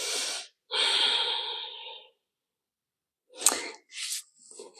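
Hatha yoga practice with long breathy exhales during a sciatic-nerve stretch: two close airy breaths at first, then after a pause a few shorter snorting, gasping breaths, no speech.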